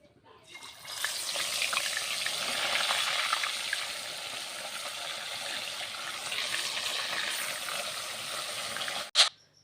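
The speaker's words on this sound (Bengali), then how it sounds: "মাছগুলো ভেজে নিচ্ছি" Fish freshly caught from a pond fry in a pan, a steady close hiss and crackle of hot oil running for several seconds before a sharp clatter at the end.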